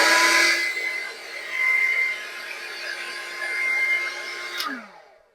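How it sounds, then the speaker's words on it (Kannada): A hair dryer runs continuously while blow-drying hair, a close, steady whining hum that rises and dips slightly as it moves, then clicks off and winds down at the end. "ಈ ಹೇರ್ ನ ಟೈಟ್ ಮಾಡ್ಕೊಳ್ತಾ ಬ್ಲೋ ಡ್ರೈ ಮಾಡ್ಬೇಕಾಗತ್ತೆ"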